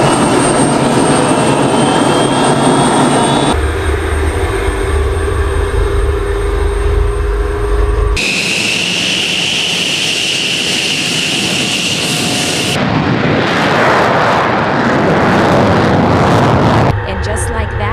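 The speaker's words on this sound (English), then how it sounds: "And then it was time for takeoff." An F-16 fighter jet takes off with a loud, continuous roar of aircraft and jet engine noise throughout. The sound shifts character abruptly in several cut segments, and no talking is heard.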